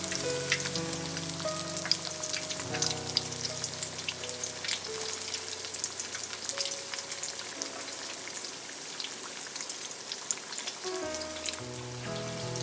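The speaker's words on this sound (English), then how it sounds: "Now let's try to fry the regular banana to see if it is working." Regular banana frying in hot oil, a constant close crackling sizzle under soft background music with no voices.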